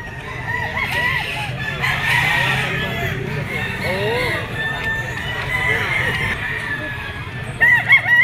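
A Gilmore Picom dark-legged gamefowl rooster crows repeatedly, loud and close, amid clucking from other fowl at a sale.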